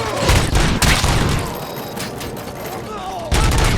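Rapid bursts of gunfire fill a firefight in the video game Robocop: Rogue City, loud and dense, with a heavy boom near the start and another burst at the end, while voices shout over the shooting.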